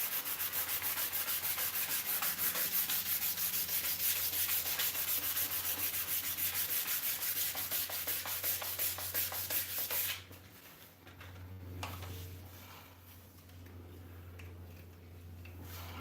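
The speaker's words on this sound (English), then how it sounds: "I suppose this is now turned into a hand sanding shenanigans stream." Wood being sanded by hand with sandpaper, a steady run of close rubbing strokes that carries on loudly for about ten seconds, then turns quieter and more uneven.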